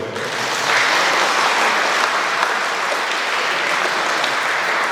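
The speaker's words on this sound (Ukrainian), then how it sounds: "Я думаю, що це потребує гучних оплесків окремих." A hall audience at a national girls' freestyle wrestling tournament breaks into loud, sustained applause. The clapping is dense and even, and it holds steady for the whole stretch.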